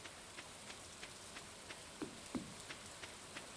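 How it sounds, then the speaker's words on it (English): Steady video game rain patters evenly, with faint droplet ticks repeating every third of a second and two slightly louder drops near the middle, and no one speaking. "Rainy day noises, aside from the random noises, make for good distraction."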